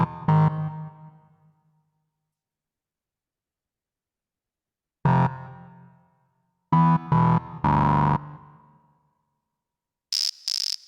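A synthesizer saw sound is tried out in music production as loud, buzzy stabs. There is one long decaying hit, then a burst of quick chopped notes, then two short high beeps, with silence in between and no talking.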